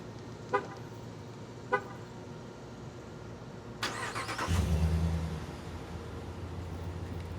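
A Ram 1500 Laramie with the 5.7 engine: two short horn-like chirps from key-fob locking, then the starter whirs and the V8 fires with a brief loud rev before dropping to a steady idle nearby.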